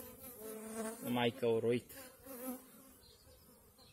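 Honeybees buzz in a barrel hive, a steady droning hum under a voice, with louder tonal bursts near the middle suggesting a queen piping inside the hive.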